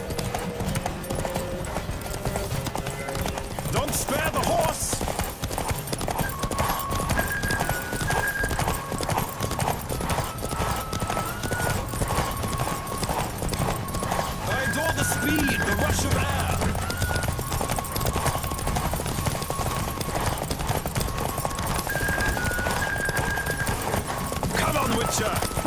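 A galloping horse's hooves clatter rhythmically and continuously in The Witcher 3 race, with occasional whinnies, music and voices mixed in.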